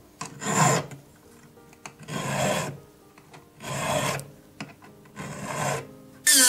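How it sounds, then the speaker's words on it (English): A three-square hand file rasps cuts into a metal ring setting for a solitaire with diamond shoulders, in four long rhythmic strokes with short pauses between them, each one close and distinct. "My 3-square hand file, and this will be really efficient for putting the cuts in."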